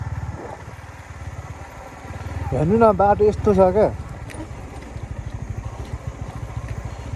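A motorcycle rides a rough, stony dirt track, its engine pulsing steadily and close throughout while someone talks loudly over it partway through.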